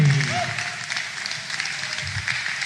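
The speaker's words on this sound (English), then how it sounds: "Another massive round of applause for your host, Calum Wilson, as he comes back on stage now." Applause from the audience at a live comedy show greets the host returning to the stage, a steady wash of clapping that fills the brief moment with a faint voice near the start.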